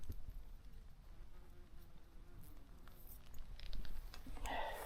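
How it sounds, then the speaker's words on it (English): Wasps buzzing around a wasp's nest outdoors at a broad on a hot midday, a steady faint drone that runs the whole time and grows slightly louder toward the end, with no one speaking. "Warning. Wasp's nest."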